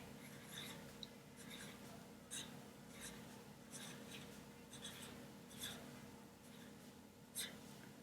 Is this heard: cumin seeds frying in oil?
no